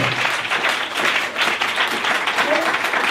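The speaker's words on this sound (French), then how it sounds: "On acclame puissamment le Seigneur Jésus-Christ." A church congregation at a Sunday service applauding and acclaiming, with dense sustained clapping and crowd voices mixed together, loud and close throughout.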